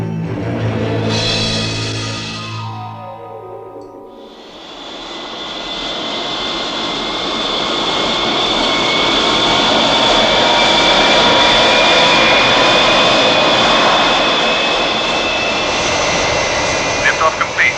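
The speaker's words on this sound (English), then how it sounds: "Liftoff complete." Spacecraft engines roaring at liftoff as a broad, loud, sustained rushing roar that swells and holds, preceded by a sweeping tonal sound and a brief dip.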